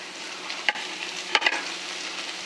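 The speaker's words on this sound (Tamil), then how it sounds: "தக்காளி போட்டு வதக்கிடலாம்" Tomatoes stirred into onions sautéing in a pan, a soft steady sizzle broken by a few sharp scrapes of the spoon, close and alone.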